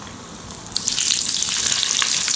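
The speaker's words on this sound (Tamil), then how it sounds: "இப்போது கரண்டியில் எடுத்து நம்ம இப்போ எண்ணெயில் போட்டு பொரிச்சு எடுத்துக்கலாம்." Spoonfuls of batter dropped into hot oil in a kadai, a soft hiss that swells into a bright, bubbling fry and then holds steady and fairly loud.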